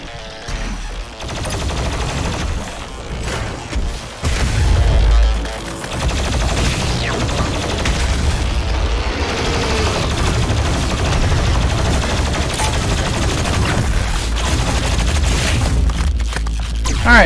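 The BFG 10,000, a massive planet-scale cannon in DOOM Eternal, fires with sustained, dense booming and crackling blasts over roughly seventeen seconds, including a heavy low surge around the fifth second, all loud and continuous with no speech.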